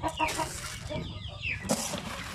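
Pet chickens cluck softly at close range, a few short calls rising over a steady low farmyard rumble with no voices.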